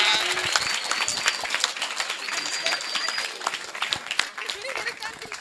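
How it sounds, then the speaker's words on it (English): Audience at an education talk applauding a student's correct quiz answer, a dense burst of hand clapping lasting several seconds with voices mixed through it, fairly distant in a hall. "Give him a big clap"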